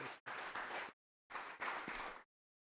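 Conference attendees at a seed industry annual general meeting applaud in two short bursts of dense clapping separated by abrupt silent gaps, fairly quiet overall.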